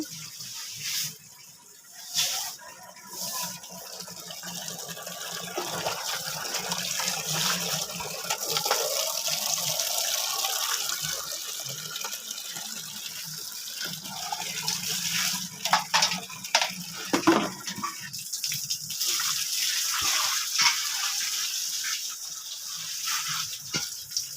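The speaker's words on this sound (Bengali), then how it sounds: "এই যে উঠোনটা আমি জল দিয়ে ঝেটিয়ে নিচ্ছি" Water is poured and splashed across a home courtyard as it is swept clean in the morning, a steady wet wash with scattered brushing and splattering sounds throughout, close by and fairly loud.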